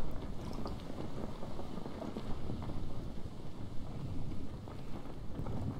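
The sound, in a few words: wind picking up at sea in video game Stranded Deep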